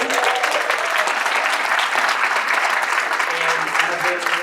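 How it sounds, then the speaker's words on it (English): Steady, dense applause from a crowd at a university College of Education talks event, loud and sustained throughout with some voices mixed in. "So let's give everyone a round of applause."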